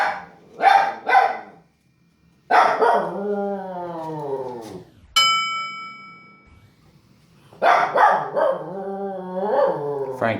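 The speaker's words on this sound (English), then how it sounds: "Can you hear my dog barking?" Frankie the dog barks and howls in drawn-out, wavering bursts, loud and close, separated by short pauses, with a bright ringing clang in the middle and no speech over it.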